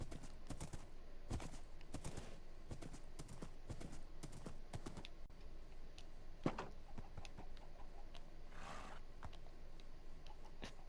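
Horse hooves clop in the Minecraft video game, a quick repeated stream of fairly faint steps with a rhythmic gait and one sharper hit midway.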